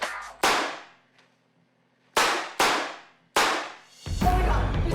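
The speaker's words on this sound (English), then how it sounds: "What she heard was gunshots" Gunshots in a crime documentary reenactment set in a two-story home: four sharp, loud cracks, one single shot followed by a quick pair and then another, each with a ringing decay, ending in a burst of low noise.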